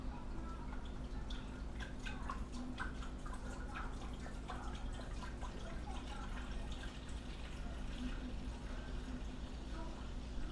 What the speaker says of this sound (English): So here is our broth going in.